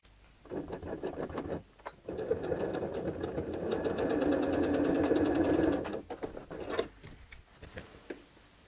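A sewing machine runs steadily for several seconds, stitching a seam on a two-sided skirt with a slit, the motor's whir swelling in the middle before stopping, with brief handling noises around it.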